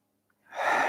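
An inhalation during a beginners' tai chi and qigong exercise, silence followed by a soft, rising in-breath that swells and holds for about half a second, close and alone.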